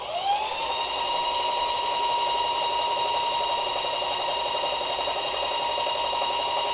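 A Bailey Home Quilter sewing machine, freshly oiled, runs steadily at slow speed with a continuous loud whirring hum, unbroken throughout and with no talking.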